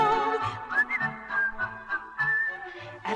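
A person whistles a cheerful tune from the Swedish version of Snow White and the Seven Dwarfs. It is a clear, close melody of sliding notes with brief pauses between phrases.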